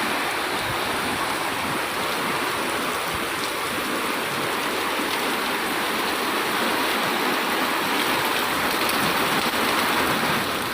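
Heavy rain pours steadily during record flooding in China, a dense, continuous hiss of water striking surfaces, loud and unbroken throughout with no voices.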